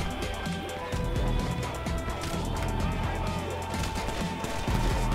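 Gunfire in GTA V Online, dense rapid shots and crashes from a multiplayer fight, packed into a loud continuous burst with engine noise underneath.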